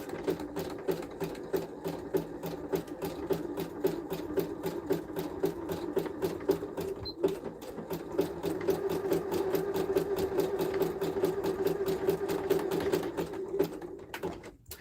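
A sewing machine stitches along a fabric edge with a fast, steady mechanical chatter that runs continuously for the whole stretch at moderate volume.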